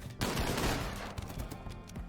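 Rapid turret gunfire from automated defenses in the video game RimWorld, a dense burst of sharp overlapping shots that stays loud and close for about two seconds with no talking.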